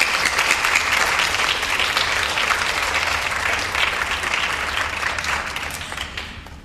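Sustained audience applause fills a school hall as a playwright is welcomed to the stage, dense and steady throughout before tapering slightly at the end.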